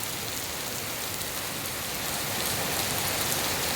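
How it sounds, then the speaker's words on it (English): Steady rain falls outdoors on a building site by a patio canopy, a dense, even hiss of drops on surfaces that grows slightly heavier toward the end, with no voices. "Now that is rain"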